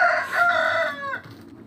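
A rooster crows once, a loud close cock-a-doodle-doo that rises, holds and trails off after about a second, leaving quiet farmyard background with no talk.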